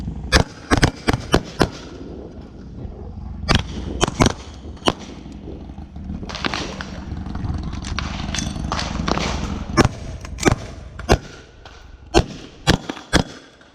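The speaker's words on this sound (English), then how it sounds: "2 from the pistol, come back up, reload, 2 more." Pistol shots fired in pairs during a shooting drill, sharp loud cracks in quick clusters with pauses between volleys, several shooters firing, outdoors.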